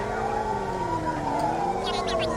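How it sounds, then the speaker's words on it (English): A police-style siren wails in a cops-and-robbers video game, a loud steady electronic tone rising and falling close up, with brief bursts of other game noise near the end. "I want to play with the siren."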